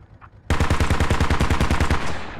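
A .50 caliber machine gun in a video game opens up after a short quiet moment, firing a loud, rapid, steady burst of evenly spaced shots that runs continuously for about two seconds.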